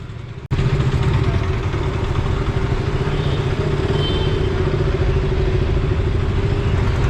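A KTM motorcycle engine kicks into life with a sudden start, then settles into a loud, close, steady idle with a throbbing mechanical clatter.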